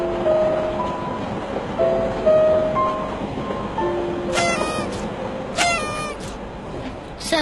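Train running on rails: a continuous rumble and rattle of rolling carriages, with faint tonal squeals and bursts of sharp, rapid clicking toward the end.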